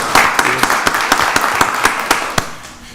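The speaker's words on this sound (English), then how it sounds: "Let's give Blake Watts a round of applause." A room of people at a Rockdale County Board of Commissioners meeting applauds CEO Blake Watts, a burst of clapping with a few sharper, louder claps standing out before it fades near the end.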